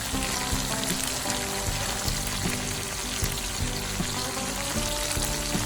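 Holy basil leaves go into a loud stir-fry that crackles and hisses in a dense, continuous sizzle close up, with no voices.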